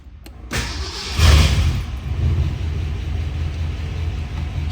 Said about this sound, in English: Let's start this little roadster up and listen to her purr.